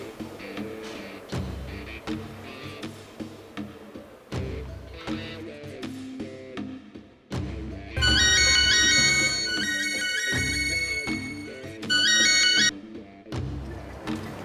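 A phone ringtone plays in repeated melodic bursts, loud and electronic, broken by short pauses, with brief faint background movement between rings.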